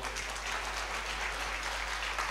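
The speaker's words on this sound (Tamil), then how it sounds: "கைத்தட்டலை நாம் கொடுப்போம்." An audience at a church choir's Christmas concert applauds in a steady, dense wash of clapping that lasts throughout, with no voices over it.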